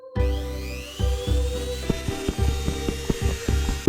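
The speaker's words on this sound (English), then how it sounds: "Now it is time to Dremel it" A Dremel rotary tool grinds a sturdy homemade shield, a high whining spin with repeated bursts as the bit bites in and lifts off, close and fairly loud.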